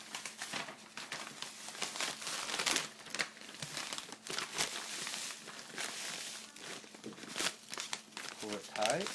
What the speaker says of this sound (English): Grab a Mylar bag.